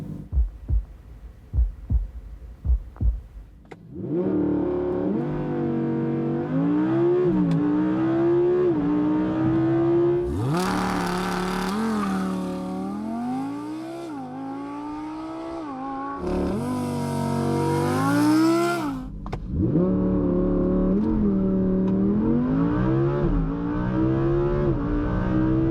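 An Audi R8 or Porsche 911 Turbo S supercar accelerates hard, its engine rising loudly through the revs in repeated pulls with shifts between them, after a few sharp thuds at the start.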